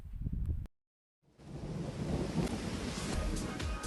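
Heavy spring rain in a thunderstorm, a broad steady roar with a deep rumble underneath, loud and continuous after a brief silent gap near the start, with no voices.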